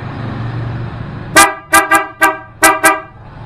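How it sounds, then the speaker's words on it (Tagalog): Loud dual car horns on a Honda ADV scooter honk six times in short, uneven bursts, the blasts close and sharp after a brief stretch of low engine hum. "ang pagka-horn niya, dalawang set ng car horn, dalawa din yung relay"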